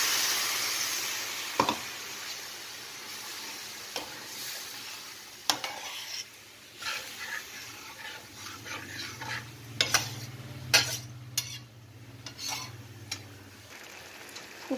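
Hot water is poured into a pan of frying spice masala for fish konkani, setting off a brief loud hiss, followed by quieter bubbling and scattered scrapes and knocks of stirring.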